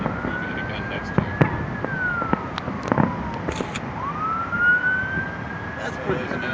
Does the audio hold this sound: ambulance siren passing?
yes